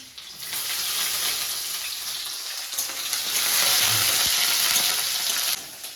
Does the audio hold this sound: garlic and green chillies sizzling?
yes